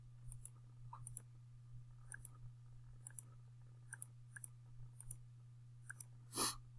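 Fingers tapping number keys on a calculator, a dozen or so light, crisp clicks in an uneven rhythm, close up over a faint steady hum, with one slightly louder rustle near the end.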